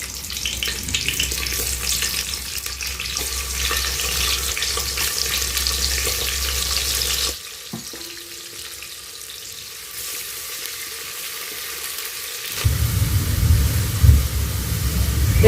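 Chopped onions hit hot cooking oil in a dry saucepan, starting with a loud, dense sizzle that suddenly drops to near quiet, then a deep, loud frying roar builds again near the end, close and without talk.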